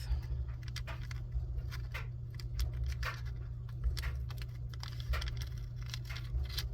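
Scissors snipping through paper for a junk journal, a quiet irregular series of short crisp cuts and rustles heard up close over a low steady hum, with no talking.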